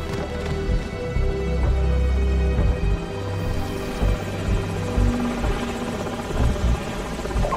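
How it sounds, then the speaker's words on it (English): Thudding enemy helicopter rotor blades in Call of Duty 4: Modern Warfare pulse steadily and loudly throughout, mixed with game sound effects and a low engine rumble. "Enemy helicopters."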